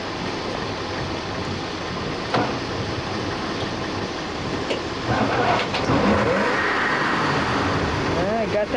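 A boat engine on a kneeboarding outing cranks and catches, then runs with a rough, steady drone that gets louder partway through, while people talk nearby.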